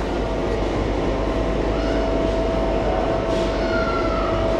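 A train idles at Shibchar railway station with a steady mechanical rumble and a thin whining tone, while passengers have boarded and the signal has dropped.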